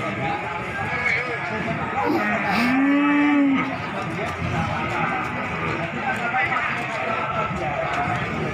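Cattle mooing at the Winong cattle market in Pati, one clear drawn-out low moo mid-stretch rising above a busy crowded background of voices and livestock, with people talking throughout.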